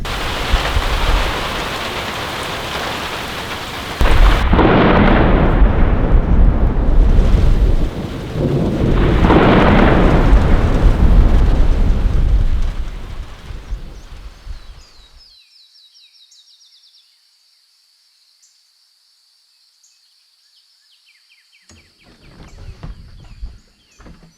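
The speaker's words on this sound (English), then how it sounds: "Wind's starting to pick up. Getting rain now." A passing thunderstorm with wind and heavy rain, loud rumbling thunder and a dense roar of rain that swells twice, then fades to near silence before faint sounds return.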